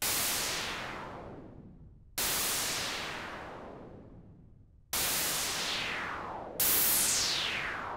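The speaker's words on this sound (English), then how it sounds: "let's set our note release high. And then that will allow us to hear this filter release." Synthesizer noise notes pass through a filter with a long envelope release. Four hissing bursts sound in turn, and each one darkens and fades slowly as the filter closes, with no voice present.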